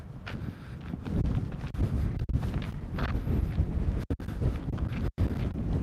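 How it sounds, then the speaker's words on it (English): Strong wind buffets the microphone in continuous low rumbling gusts, with brief drops in between, and no voices. "it's just very, very windy out here today"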